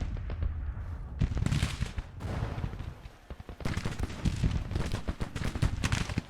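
Cannon and gunfire from a Civil War battle video game, a dense run of sharp booms and cracks, some near and some distant, rolling continuously with short lulls and no talk.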